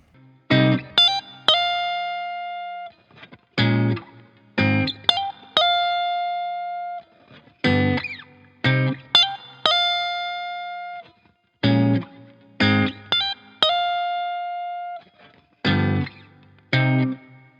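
A guitar fingerpicks the chords of a song in short repeated phrases, each pluck ringing briefly before a pause, close and fairly quiet, with no voices.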